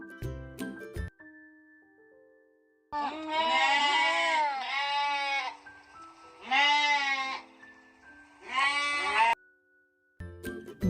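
A sheep bleats in several long, wavering calls separated by short pauses, loud and close, with brief stretches of music before and after.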